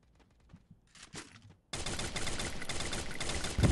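Gunfire in the Free Fire battle royale game, with faint scattered shots at first, then a sudden loud sustained burst of rapid fire that keeps going to the end.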